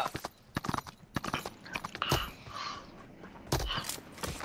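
Horse hooves clip-clopping in the battle royale video game BGMI, a run of uneven hoof clops with noisy game sounds behind them, no talk.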